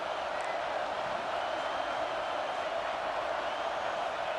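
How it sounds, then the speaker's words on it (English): A roaring stadium crowd at a Buckeye home game in a college football video game, a steady, dense wash of cheering noise that holds level throughout with no break. "The Buckeye crowd alive on 3rd down."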